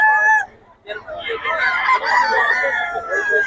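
Chickens squawk and cluck loudly up close, their calls overlapping in a noisy, continuous cackle.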